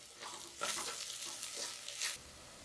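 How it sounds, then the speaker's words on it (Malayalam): Biryani masala with a quarter teaspoon of turmeric is sautéed in a pressure cooker, with a soft close sizzle and bursts of stirring scrapes across the short stretch, and no voices. "അപ്പോൾ അതുകൂടി ചേർത്ത് കൊടുത്തിട്ട് നമുക്കിത് നല്ലതുപോലെ ഒന്ന് വഴറ്റിയെടുക്കാം."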